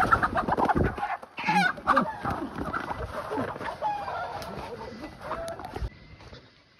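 A live chicken, soon to be slaughtered for cooking, clucks and squawks in short irregular bursts close by, with some background noise and faint voices.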